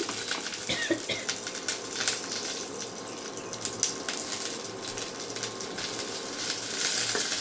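Mustard seeds, dried red chillies and fresh curry leaves sizzle and crackle steadily in hot oil for a tempering, a close, continuous hiss with small pops throughout and no talking.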